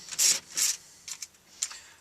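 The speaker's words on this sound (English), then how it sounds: "Next we're going to use a Torx 20, a T20, and remove this bottom right screw." Torx T20 screwdriver working a screw out of a VW Passat stereo mount: several short, close scraping rubs of metal on metal, two longer turns followed by a few brief ticks, with no voices.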